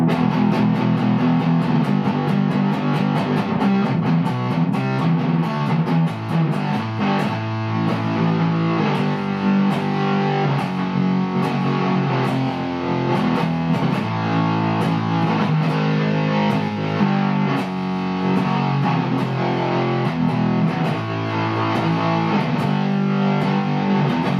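Electric guitar played through a modded Boss DS-1 distortion pedal: heavily saturated, high-gain chugging riffs with a thick bottom end, loud and continuous throughout, with no voices.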